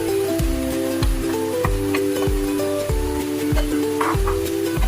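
Pasta tipped into a sizzling sauce in a pan for baked macaroni, heard as a loud continuous sizzle with repeated scraping and stirring thuds and a steady tonal hum underneath.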